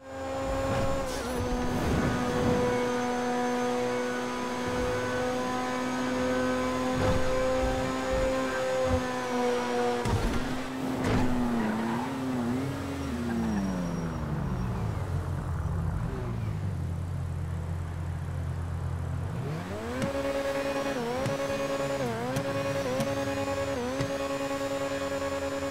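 Carbonizer sports car engine from GTA Online, a loud steady high-revving tone that holds, dips, then revs back up in rising and falling sweeps, heard alone without talk.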